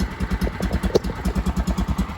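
A Kawasaki Mule 550 UTV engine idles close by, its rhythmic, slightly uneven chugging pulses repeating steadily, with light mechanical clatter and one louder knock in the middle.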